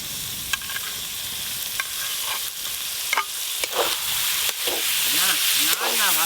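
Mutton fat pieces frying in oily spice masala in a pan, a steady loud sizzle with repeated scraping stirs of a spatula throughout, no talking.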